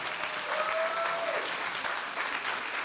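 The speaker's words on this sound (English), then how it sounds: "Another big round of applause for the queen of Atlanta literature" Sustained audience applause for an author at a live literary conversation event in Atlanta, a steady dense wash of clapping from a nearby crowd throughout, loud and continuous with no talk over it.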